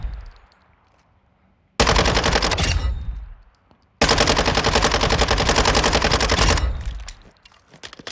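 SMG gunfire in Modern Warfare 2 (2022): two loud, sustained full-auto bursts of rapid shots, the first about a second long and the second nearly three seconds, each trailing off into a fading echo.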